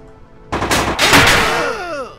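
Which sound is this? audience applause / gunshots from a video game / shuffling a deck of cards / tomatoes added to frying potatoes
gunshots from a video game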